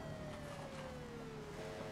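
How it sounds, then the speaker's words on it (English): Faint, distant police siren in the video game Infamous Second Son wails with a slowly falling tone over low background rumble, brief and quiet. "sirens"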